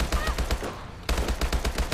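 Rapid automatic gunfire in Advanced Warfare Exo Zombies, loud, dense bursts with a brief pause near the middle, no talking.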